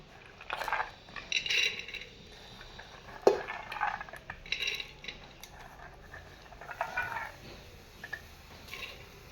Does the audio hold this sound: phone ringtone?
no